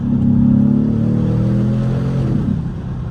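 An Aston Martin DBX S SUV engine pulls hard under acceleration, a loud close rising drone with layered harmonics that eases off toward the end, with no voices.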